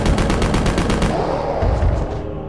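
Rapid submachine gun fire in the video game Resident Evil Survivor 2 – Code: Veronica, a loud continuous burst of evenly spaced shots for about two seconds that ends abruptly, leaving a dull rumbling tail.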